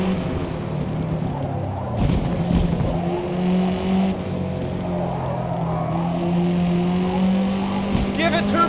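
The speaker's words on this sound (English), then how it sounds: "the echoes of the sound off of the freaking walls and stuff make you think that there are cars right next to you" Race cars in the Forza Motorsport video game drone and rev steadily, with engine tones echoing off track walls and a loud, continuous roar throughout, while a person talks over it at times.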